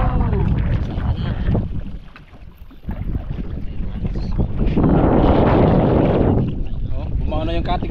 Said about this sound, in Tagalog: Malaki kasi yung makina, border 5 yung makina namin.